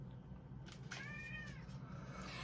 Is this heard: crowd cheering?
no